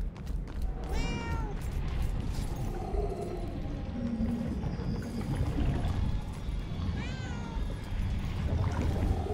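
A cat meows twice in the video game Murdered: Soul Suspect, clear rising cries near the start and again toward the end over a low ambient game background, with no talking.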